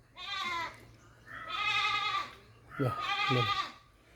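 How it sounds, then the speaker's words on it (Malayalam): A large adult goat in its second kidding bleats three times, loud drawn-out calls close by with short pauses between them. "വലിയൊരാടാട്ടോ. ആട് രണ്ടാമത്തെ പ്രസവമാണ്."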